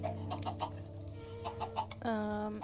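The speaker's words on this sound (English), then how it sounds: "I've got a little chicken coop to the side with all the different variants of chickens." Chickens of several variants in a small video-game coop give a quick run of short clucks, then a longer drawn-out call at the end, close and fairly clear over a faint background.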